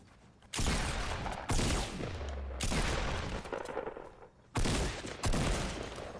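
Gunfight in the video game Fortnite, including a pump shotgun, with several loud, dense bursts of rapid gunfire separated by short gaps, heard close and alone without talk.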